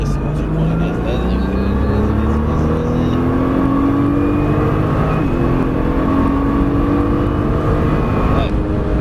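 A Nissan GTR accelerates on a race circuit, its engine note rising steadily and loudly as it gathers speed, with a voice talking inside the car over the roar.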